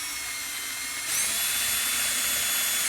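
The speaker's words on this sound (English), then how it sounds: "Cole's ready to pre-drill his holes" Power drill pre-drilling screw holes for a license plate birdhouse, a steady high whine that rises in pitch and loudness partway through as the bit bites, running continuously up close with no talk.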